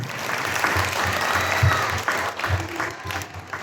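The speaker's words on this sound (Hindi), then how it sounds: "जोरदार तालियां हो जानी चाहिए" A crowd at a Jain traditional dress event during the Das Lakshan festival applauds with loud, continuous clapping that fills the clip and fades slightly toward the end.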